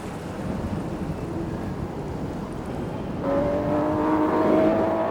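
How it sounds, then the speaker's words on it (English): The 5-ton Bluebird land speed record car, driven by a great aeroplane engine, roars past on a record attempt with crowds watching; a broad steady rumble swells into a louder droning whine partway through, with no talk. "the 5-ton Bluebird with its great aeroplane engine shot by"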